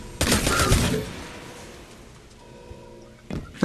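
Burst-fire gunfire from the video game Destiny 2 cracks in a rapid, loud volley at the start, followed by quieter background game sounds and another short burst near the end.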